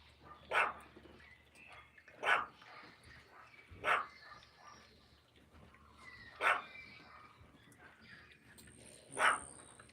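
A dog barks at a chicken: five sharp barks spaced a couple of seconds apart, moderately distant, with faint outdoor background noise between them and no talking.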